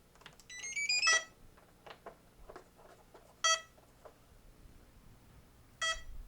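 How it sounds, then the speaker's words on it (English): An Eagle Tree Vector flight controller sounds its boot-up alarm: short electronic beep bursts, with a rising tone sequence at the start and then two more isolated beep clusters spaced a couple of seconds apart, fairly faint. "it's going to do some alarm beeping here for just a second until the Vector fully boots"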